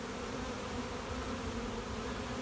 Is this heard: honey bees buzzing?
yes